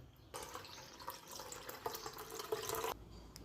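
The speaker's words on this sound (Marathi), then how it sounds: "असं स्वच्छ 2-3 पाण्याने लोणी धुवून घ्यायचं." Water pours steadily into a vessel while homemade butter is washed in clean water, a close, continuous splashing stream lasting a few seconds before stopping.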